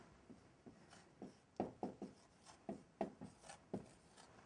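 Chalk or marker strokes on a board in a classics lecture hall, making a faint, irregular series of short scratches and taps as notes go up, heard alone and at a moderate distance.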